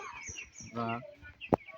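Young chicks give brief high cheeps while held by hand for a Ranikhet vaccine at home, mixed with a voice and a sharp click near the end.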